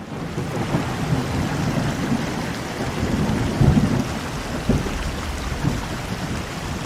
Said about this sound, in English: listened to the gradually increasing rain. I listened to the thunder and lightning.